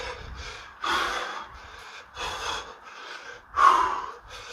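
Heavy, labored breathing after a boxing fitness workout, close to the mic, with three loud gasping inhales around steadier panting exhales, no talking.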